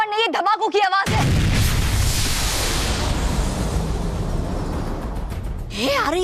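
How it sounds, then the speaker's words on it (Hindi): A voice cuts off, then a sudden heavy TV fantasy show explosion roars and rumbles for several seconds before talking resumes at the end. "आ रही है धमाकों की आवाज भयानक लोक की दिशा से।"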